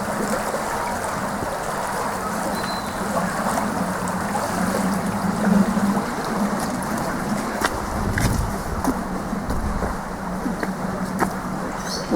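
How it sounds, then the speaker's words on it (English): Water of a stream flows and rushes beneath a metal footbridge in a boggy woodland estate, a steady close hiss and gurgle running continuously with occasional soft knocks and splashes. "Nice sound of the water."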